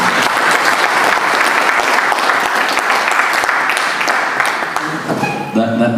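An audience at a real estate and infrastructure conference bursts into sustained, dense applause that stays loud and even for several seconds, thinning slightly near the end as a voice starts to come through.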